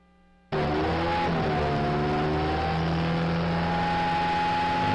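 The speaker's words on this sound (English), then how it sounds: "Engines winding up, getting ready." Honda race car engines rev and wind up together on the grid before the green flag at a national championship race, a loud sustained multi-engine drone that kicks in abruptly after a brief quiet and holds steady with shifting pitch.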